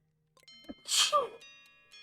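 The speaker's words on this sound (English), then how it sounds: "I have to sneeze." A single sharp sneeze bursts out after a quick intake of breath, close and loud against an otherwise quiet room.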